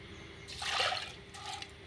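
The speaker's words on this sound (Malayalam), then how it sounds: "നമ്മളിതിൽ വെള്ളം കുറച്ചും കൂടി ഒഴിക്കുക" Water poured into a fenugreek mixture, a short splashing pour that swells and then trails off into a quieter trickle, heard near and alone.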